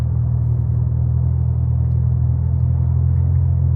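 A car's engine rumbles loud and steady through a modified exhaust, a continuous low drone close by with no talk over it.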